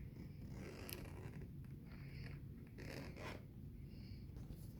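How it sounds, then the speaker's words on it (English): A zipper drawn open along a Steam Deck 512GB carrying case, a soft, close scratchy rasp running in short uneven pulls, quiet and without talk. "I'm gonna first unzip it."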